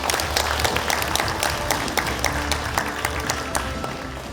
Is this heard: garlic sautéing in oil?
no